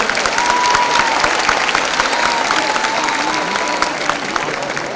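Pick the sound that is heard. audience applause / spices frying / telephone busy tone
audience applause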